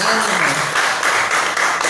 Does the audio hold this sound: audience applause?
yes